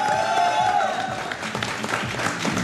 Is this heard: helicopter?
no